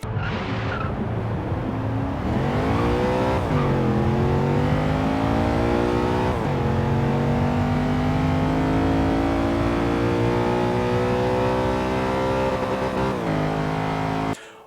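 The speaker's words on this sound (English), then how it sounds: "Let's play a clip of the ISF in Forza as we launch it from a dig at Server's Paradise." Lexus IS F V8 in the Forza video game, launched from a standstill at Sunset Peninsula, loud and close, revving through several upshifts with rising engine tones and brief dips at each gear change.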